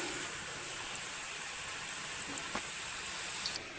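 Potato pieces and fennel seeds fry in hot oil, giving a steady, close hiss of sizzling with a few faint crackles and no voices.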